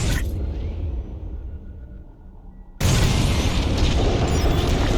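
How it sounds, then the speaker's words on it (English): Bombs detonate against a Star Destroyer in Star Wars: Squadrons on Xbox Series X, a sudden loud, rumbling boom that cuts in abruptly after a quieter stretch and holds as a heavy roar. "It's bombs away. Nice bombing."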